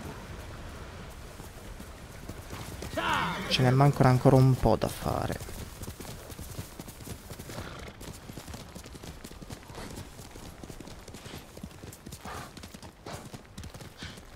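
Hooves clip-clop steadily from a horse ridden in the video game Ghost of Tsushima, a close rhythmic patter running through the whole stretch, with someone talking over it and a brief burst of louder game sound early on.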